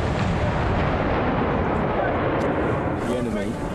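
Mortar rounds fired at a Taliban bunker in Afghanistan, a dense, continuous booming roar with heavy low rumble and sustained loud blasts, thick battlefield noise with no clear gaps between reports.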